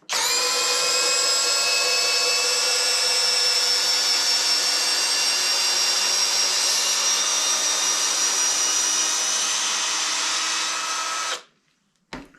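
A Greenworks cordless drill runs continuously under heavy load, its high motor whine loud and close, holding a steady strained pitch for several seconds before it abruptly stops.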